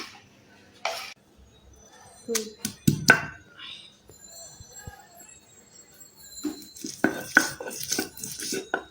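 Dried fish dry-roasted without oil in a wok: sparse metallic clinks and scrapes of stirring come in short clusters, fairly faint with quiet gaps between them.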